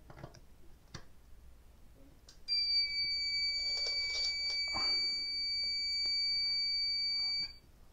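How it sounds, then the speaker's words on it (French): A steady electronic beep with a high whine from a continuity tester sounds continuously for about five seconds, then stops, with faint background movement before it. "quand on entend ce bip, quand on met la pointe de touche entre les deux"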